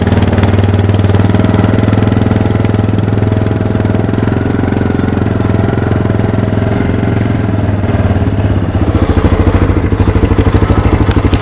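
A 2001 Kawasaki Lakota ATV's small engine idles steadily with an even, chugging rumble, loud and close, then a faster pulsing putter near the end; no voices.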